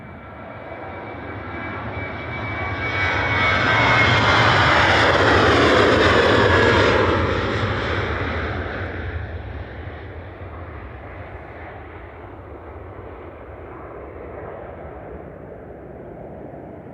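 A TUI airliner takes off at Manchester Airport with a jet engine roar that swells to a loud peak and then fades into a lower, distant rumble as it climbs away.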